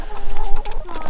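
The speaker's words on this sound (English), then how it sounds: "So do you remember the names of your chickens, Eli?" Chickens clucking nearby, a brief burst of several overlapping throaty clucks and calls, fairly loud and alone.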